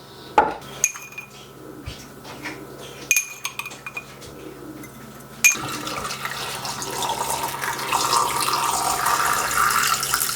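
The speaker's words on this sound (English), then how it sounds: "then top it with cold water" Cold water runs from a tap into a jar of salted garden vegetables and beets being set up for lacto-fermentation, with a steady filling rush over the second half after scattered clinks of dishes and utensils.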